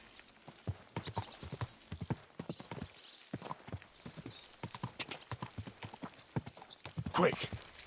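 Horse hooves clip-clop steadily and rapidly in the medieval video game Kingdom Come: Deliverance II, up close, with someone talking over the galloping and a brief whinny near the end.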